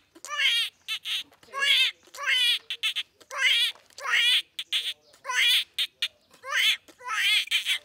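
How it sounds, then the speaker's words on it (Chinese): Sheep bleating repeatedly in a rural village, a series of loud, close wavering calls with short gaps between them, heard alone. "这羊叫。"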